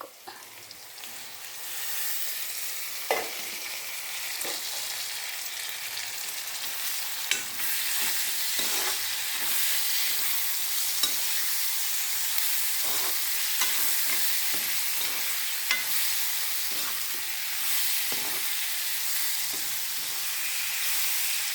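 Tomatoes, ginger paste and curry leaves fry in a pan for a variety rice dish, a constant close sizzle broken by scattered spatula taps and scrapes throughout.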